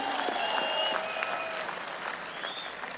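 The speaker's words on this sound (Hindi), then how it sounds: "पसंद आए हो तो जरा एक बार इनके लिए तालियां बजा दीजिए।" A large crowd applauds steadily, dense clapping with scattered whistles and cheers, sustained throughout.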